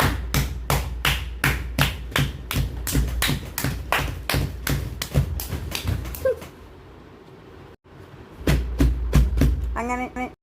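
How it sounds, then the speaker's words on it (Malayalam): Children clap for a challenge winner in a fast, steady run of sharp claps that stops for about two seconds, then picks up again, with a brief voice at the very end. "ഫർഹാനക്ക് കൊടുക്കൂ ഒരു ക്ലാപ്പ്"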